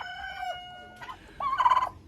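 Silkie chickens in a winter enclosure give soft clucks and short calls, a steady murmur early on and a louder burst of clucking near the end, close by with no talk.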